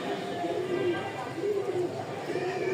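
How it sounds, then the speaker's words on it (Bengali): A pair of feather-footed Rajshahi flying pigeons coo in low, rolling phrases that repeat roughly every second, close and steady, with faint background chatter. "খুব সুন্দর কবুতর"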